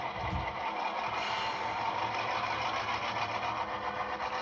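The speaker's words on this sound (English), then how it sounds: "Here's a quick demonstration of the Locomotive for all of you." An HO scale model locomotive fitted with a Tsunami 2 sound decoder runs on a switching layout, giving a steady, close engine-like hum with no pauses and no talking.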